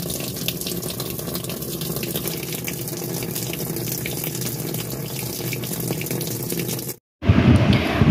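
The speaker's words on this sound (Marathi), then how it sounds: "तर चला आपण आता वॉशिंग मशीनमध्ये टाकून घेऊया पडदे. तर त्यासाठी आता आधी पाणी चालू करते या." Tap water runs steadily into a washing machine being filled to wash curtains, a continuous close splashing stream that cuts out briefly near the end, then returns louder and rougher.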